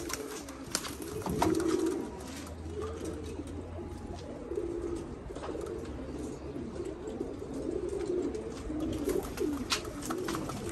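Soft, repeated cooing of pigeons, several low burbling calls overlapping steadily, with light background noise and no talking.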